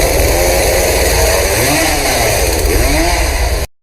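A chainsaw from the horror film Rumah Dara runs loud and steady throughout, with a harsh buzzing drone and slight shifts in pitch as it revs. It cuts off abruptly at the end.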